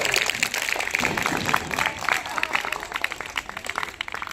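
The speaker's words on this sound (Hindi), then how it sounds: "एक बार आप अपने लिए जोरदार तालियों से स्वागत करें।" A school audience of children applauding loudly at a Beti Bachao Beti Padhao event, a dense sustained patter of many hands clapping that carries through the whole stretch without pause.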